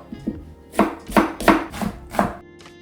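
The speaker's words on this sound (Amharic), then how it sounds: "ከዛም ያዘጋጁትን ሽንኩርት ከትፋለሁ።" Onions are chopped with a knife on a board for an Ethiopian dirkosh firfir, giving about six close, crisp chopping strokes in an uneven rhythm with no talk.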